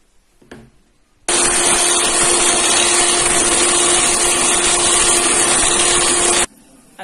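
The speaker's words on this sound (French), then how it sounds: "Puis je vais les faire monter au batteur" An electric hand mixer whips cream for a lemon tart, a loud, steady motor whine with a constant hum that starts abruptly, runs unbroken for about five seconds, then cuts off.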